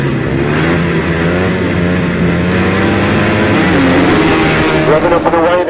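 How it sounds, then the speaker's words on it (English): Several 250cc solo grasstrack motorcycles rev hard at a race start, a loud, continuous multi-engine roar with rising pitch as they pull away, no talk over it. "Revving up and away then with his final heat for the 250 solos."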